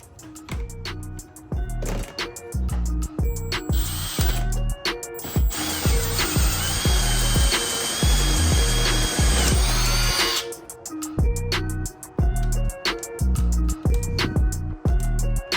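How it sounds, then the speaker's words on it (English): A power drill bores a hole for a voltmeter in a Toyota 4Runner, loud and close, with short bursts of whirring and stopping, then a sustained high-pitched grinding run through the metal before more brief bursts. "We're gonna get our hole drilled for the voltmeter"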